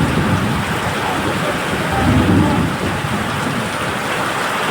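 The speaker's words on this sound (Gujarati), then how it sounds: "ધનાધન વરસાદ પડી રહ્યો છે." Heavy rain with thunder, a dense, loud, constant roar of downpour with a low rumble swelling briefly in the middle; no one speaks.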